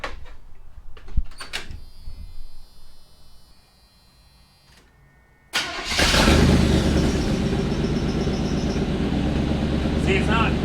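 A 1987 Chevy C10 pickup with a custom exhaust: after a few clicks and a quiet hum, the engine cranks and fires about halfway through, then settles into a steady, loud, throaty idle heard close up.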